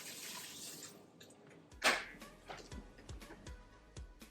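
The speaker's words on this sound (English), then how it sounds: "I'm going to be adding washing it with some vinegar" Jumbo shrimp being washed with vinegar in a kitchen sink: a faint stream of running water, then a splash and a series of soft drips and handling sounds, quiet and close.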